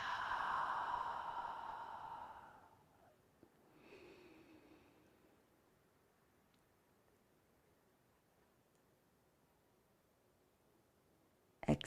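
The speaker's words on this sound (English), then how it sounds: "Close your eyes and just breathe. In through the nose, exhale through the mouth." Slow breath drawn in through the nose, then let out through the mouth in a soft airy exhale, close and quiet, followed by near silence and a brief rustle at the end.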